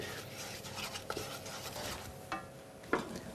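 A spoon gently stirring a cooked roux in a pan, soft scraping with a few sharper taps and clicks against the pan, quiet and close.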